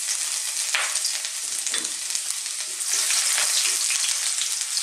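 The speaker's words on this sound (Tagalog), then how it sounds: "Mainit na po yung ating wok. Meron na rin po tayo mantika. So, lalagyan na po natin ang garlic." Garlic sizzles in hot oil in a wok for a Filipino cabbage and pork dish, a loud, dense, continuous frying hiss with occasional stirring scrapes and no talk.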